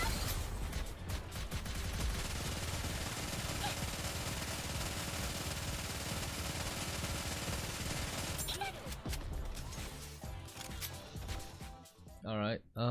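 Sustained machine gun fire in the Project Matis video game, a dense continuous burst for about eight seconds, followed by sparser mechanical clicks and a short stretch of game sound effects.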